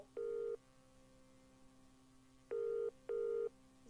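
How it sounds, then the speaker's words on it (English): A phone gives off repeated electronic beeps in three steady tones: one near the start, then two more close together about two seconds later, each clean and sustained over a low background hum. "Just the phone beeping."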